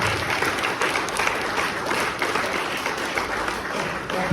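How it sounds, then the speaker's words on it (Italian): An audience at a commemorative gathering gives sustained applause, a loud, dense patter of many hands clapping that holds steady from start to finish without speech on top. "Facciamo un applauso."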